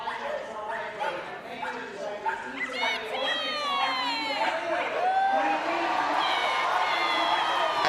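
Dogs at a senior flyball quarter-final yip and bark excitedly in quick bursts amid a noisy indoor crowd, with whining and cheering building as the dogs wait and a voice talks throughout.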